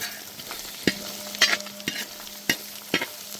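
Spring onion stalks, cut lengthwise, frying in hot oil while a spoon stirs them for veg chilli: a constant sizzle broken by sharp clanking scrapes against the pan at an uneven pace.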